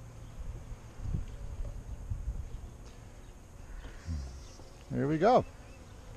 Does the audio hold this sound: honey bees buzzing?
yes